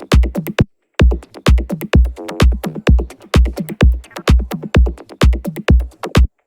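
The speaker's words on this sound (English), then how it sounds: "Let me play it now with the clap in." A minimal tech house groove pairs a short, snappy clap with a busy glitch percussion loop: steady pounding kicks, chattering clipped ticks and bright clap hits recurring in tight rhythm, with one brief dropout near the start.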